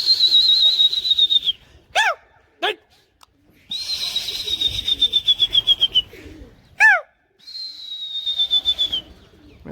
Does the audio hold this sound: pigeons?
yes